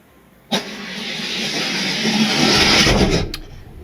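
A four-lane drag race start with a Beetle, a full panel van, a GTO and a winning Mercedes, heard as a sudden loud launch followed by a sustained, rising roar of engines that cuts off sharply near the end.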